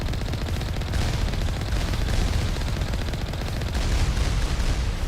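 Rapid, continuous turret gunfire in the video game Mass Effect, a dense, loud stream of shots that runs without pause for several seconds, with no talking over it.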